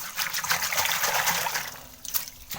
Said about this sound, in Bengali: সকালবেলা জল দিয়েছিলাম বলে কিন্তু কাদা কাদা হয়ে রয়েছে, একটু ধুয়ে নিলাম।